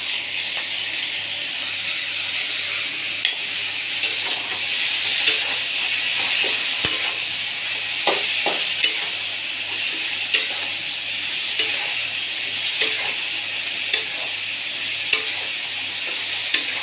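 Grated ginger and tomato sizzle and fry in a pan, with a steady hissing broadband crackle and occasional stirring clinks. The sound is close and continuous, and no one talks.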